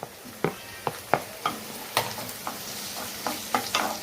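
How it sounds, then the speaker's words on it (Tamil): Chopped tomatoes sautéing on a low flame for a fish curry without coconut: a soft steady sizzle with a series of regular spatula taps and scrapes against the pan, fairly quiet and close. "இது ஒரு நிமிஷம் போல் வதக்கும்"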